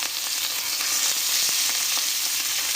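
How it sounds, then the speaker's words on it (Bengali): Small chela fish fry in hot mustard oil on a tawa, making a continuous close sizzle with faint crackles and small pops scattered through it, and no one speaking. "মাছগুলো ভাজার জন্য এখানে আমি একটা তাওয়া বসিয়ে দিয়েছি, আর এতে সর্ষের তেল দিয়েছি"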